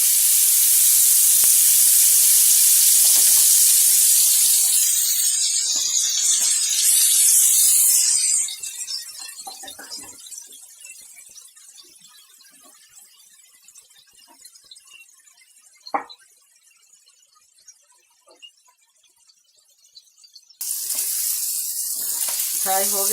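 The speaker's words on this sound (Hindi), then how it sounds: "अब सबको हम थोड़ा थोड़ा करके इस पे फ्राई कर लेते हैं," Coated masala paneer tikka shallow frying in a pan, a loud bright sizzle that fades to quiet spatters and small crackles, then flares up loudly again near the end.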